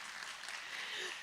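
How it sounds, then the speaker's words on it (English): Audience at a storytelling festival applauds, a short burst of even, crowd-wide clapping with no voices over it. "Applause to you."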